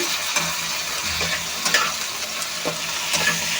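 Steady sizzling of prawns frying in a pan, with occasional soft clicks and stirring scrapes throughout, fairly close and continuous.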